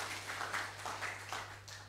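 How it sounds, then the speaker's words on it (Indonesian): A church congregation claps together in a short, fairly faint burst of applause lasting about two seconds. "Berikan tepuk tangan bagi Tuhan kita."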